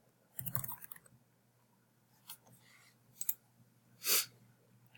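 A few sharp, separate clicks of a computer mouse, including a slow double click while drafting working drawings for an arbor press, sit close and quiet against near silence, with a soft breathy rustle near the start.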